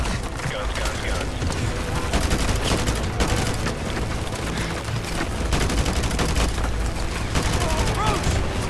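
Heavy, sustained gunfire from an aircraft's guns during a Call of Duty: Modern Warfare 2 campaign mission, rapid bursts and booms rolling continuously over a dense battlefield din for the whole stretch.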